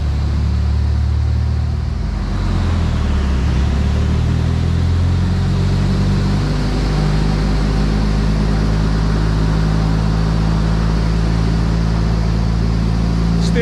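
A tuned Ford Escort Mark 4 Cosworth engine with four-wheel drive runs steadily nearby, a loud continuous idle rumble with a slight lift in pitch early on, and no voices.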